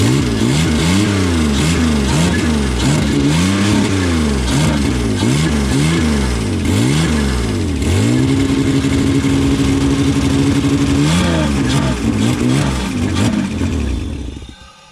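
A Holden VL Commodore engine at its first start after sitting, running loud and close with repeated rising and falling revs, then holding a steadier higher idle before dropping off at the end.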